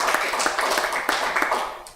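A small group at a council meeting claps in a brief, scattered burst of separate hand claps, moderately loud and close, fading out after about two seconds.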